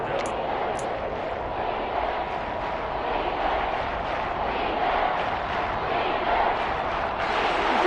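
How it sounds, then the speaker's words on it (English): A football stadium crowd roars steadily ahead of a big third down in a one-possession game, a dense, sustained wash of cheering at moderate distance with no break. "The crowd getting into it as we come up on a big 3rd down."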